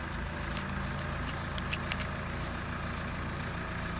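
A car engine runs idling in the background, a low, steady rumble at moderate distance with a faint metallic jingle midway, no talk.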